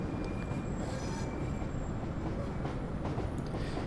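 A Northern Class 319 train in Train Simulator 2015 climbs a gradient slowly, giving a steady, dense rolling rumble with faint, thin wheel squeal above it throughout.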